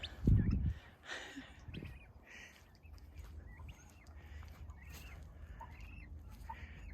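Soft clucks and chirpy calls from a flock of turkeys, with one louder burst at the start, over low outdoor rumble.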